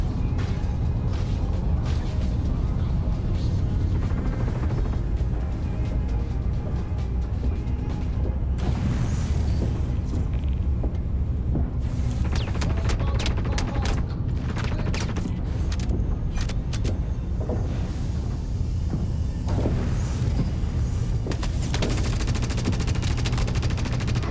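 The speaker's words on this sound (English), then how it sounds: "Please just disregard that hull thumping sound. It's perfectly normal." A spaceship hull in the Star Citizen video game takes continuous, dense, loud thumping impacts, with rapid bursts like weapon fire pounding throughout without a break.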